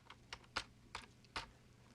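Commands being typed on a computer keyboard in a PuTTY terminal session: five sharp, separate keystrokes spaced unevenly, close and fairly quiet, with no voices.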